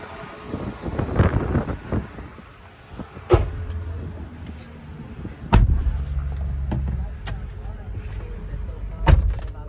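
A 2013 Ford Explorer Police Interceptor with its 3.7-liter engine rolls on a short test drive, a steady low drivetrain rumble under wind noise, broken by a few sharp clunks and thumps from the cabin or doors.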